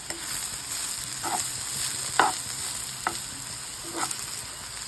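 Grated coconut and onions roast in a pan for a mutton dish, giving a steady close sizzle with a few sharp stirring scrapes of a spatula at irregular moments, and no voices.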